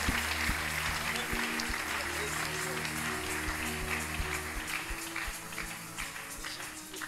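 A congregation at a prophetic church service claps together in a loud, sustained burst of applause, with sustained music and voices mixed beneath it.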